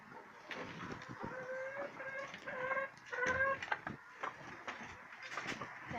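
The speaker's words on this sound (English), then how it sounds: "Hello, guineas. Hello, Butter. It's my guineas again" Guinea fowl and chickens in a yard cluck and cackle close by in overlapping bursts, some calls rising into longer squawks, over faint background noise and with no speech.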